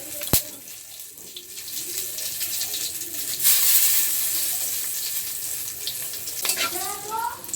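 Panch phoron, bay leaf and dried chillies hit hot oil in a pan, breaking into a steady, hissing sizzle that swells loudly after a sharp initial clink and keeps crackling close and continuous.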